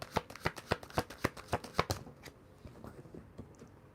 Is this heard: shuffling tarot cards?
yes